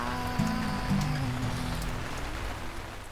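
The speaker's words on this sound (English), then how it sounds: "it is raining outside, and it is coming down" Steady rain pouring down outside, a soft continuous patter throughout with a faint tonal hum underneath near the start.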